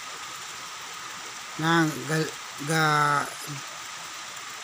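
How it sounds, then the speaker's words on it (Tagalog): Heavy rain pours onto a banana plantation in Corella, Bohol, a steady dense hiss running through the whole stretch, while someone speaks in a few short phrases over it. "grabe ka baga sa dagom sa kalangitan ni bundak ang makusog nga ulan"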